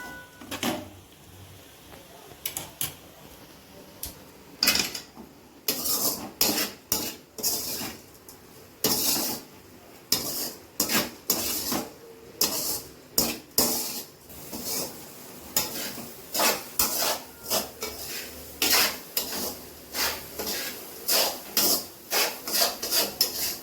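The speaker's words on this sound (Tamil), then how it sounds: "ஸ்லிம்மில் வச்சு கிளறிட்டே இருக்கலாம்" A spoon scrapes and stirs a snack mixture in a pan over a low flame: a close, rhythmic series of scraping strokes speeding up over time, with faint sizzling beneath.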